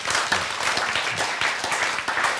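Sustained applause from a church lecture audience, a dense steady wash of clapping with no speech over it.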